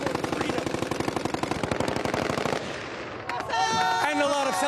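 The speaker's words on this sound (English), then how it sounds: "And a lot of celebratory gunfire." Rapid bursts of celebratory gunfire in Syria crackle loudly in dense, rhythmic volleys, then thin out before sharper cracks and a crowd-like roar of shouting voices rise.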